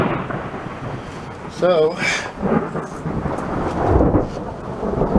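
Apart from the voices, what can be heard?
thunderstorm thunder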